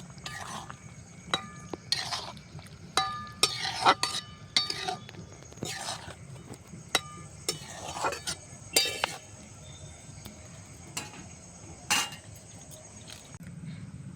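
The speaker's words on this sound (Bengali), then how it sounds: "পনির দেওয়ার পর আমি আর একটু নাড়াচাড়া করে নেব" Fried paneer stirred in a pan with a metal spoon, a run of sharp close clinks and scrapes at uneven intervals over a faint low background hum.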